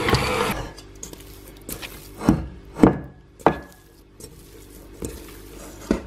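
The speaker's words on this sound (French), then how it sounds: "Je pétris 10 secondes pour incorporer correctement les cubes" King cake dough with candied orange peel cubes is kneaded by hand, giving a series of soft, dull thumps and squishes at an irregular rhythm, close and fairly quiet, with no talking.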